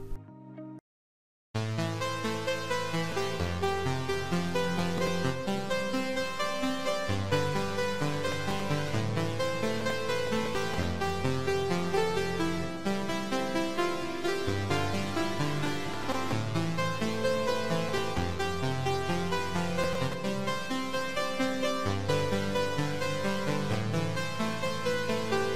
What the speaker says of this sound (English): the custom saw I have designed works really well for layering purposes in electronic music